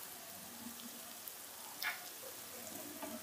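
Coriander and cumin fry in a pan with a steady, faint hiss, a soft continuous sizzle with a few small pops.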